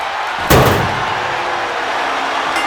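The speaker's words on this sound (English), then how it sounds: "Slams it shut and wins the dumpster match." A single heavy metal slam of a dumpster lid banging shut in the WWE 2K26 wrestling video game, loud and close, followed by a lingering rumble and steady arena crowd noise.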